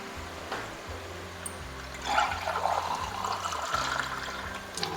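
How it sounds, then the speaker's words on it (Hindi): Water poured into a karahi of gosht as it cooks, a splashing liquid pour that picks up partway through and runs steadily over a low kitchen hum. "इसमें डाल देंगे हम पानी"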